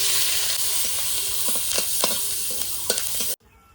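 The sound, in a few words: chopped green chillies sizzling in hot oil in a wok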